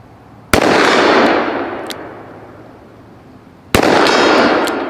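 Two loud, sharp gunshots from a vintage firearm, each a sudden crack with a long, fading echo rolling away outdoors, spaced about three seconds apart, no talk.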